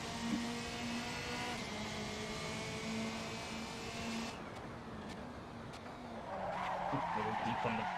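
Race car tires skid and squeal under heavy braking in Assetto Corsa, a loud continuous engine drone dropping in pitch as the car slows, with faint voice traces underneath.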